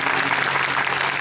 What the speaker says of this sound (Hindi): ताली बजाकर धन्यवाद दें।